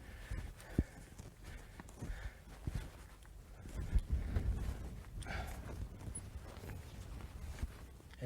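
A horse walks at a steady pace, its hooves giving soft, irregular clip-clops, fairly faint and distant with no talking.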